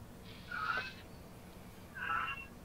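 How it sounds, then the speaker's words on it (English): Two separate meows from a young pet cat indoors, each lasting about half a second, moderately close and alone against a quiet room background. "Attack of the cat."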